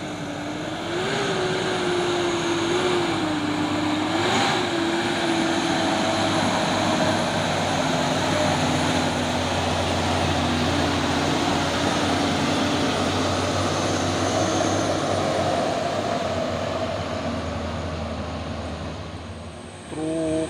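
Isuzu Giga box truck engine running, a steady loud diesel drone with a low hum and shifting tonal whine, continuous for a long stretch before easing at the end, with no talking.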